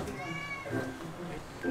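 Rescued kittens at a cat shelter meow in high, thin repeated cries, several overlapping calls close by while people talk softly in the background.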